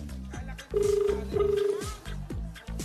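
On a Filipino noontime variety show, a telephone gives two short, bright ring bursts in quick succession, mixed in with background voices.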